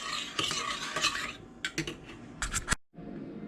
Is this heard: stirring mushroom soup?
yes